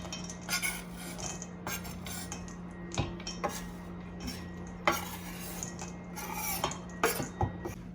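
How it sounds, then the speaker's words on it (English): Chunks of cut chocolate tipped into a bowl of cookie dough, giving a series of light clinks and knocks against the bowl with a scrape or two, fairly close, with no voice. "And then you're going to add your cut up chocolate pieces into the bowl."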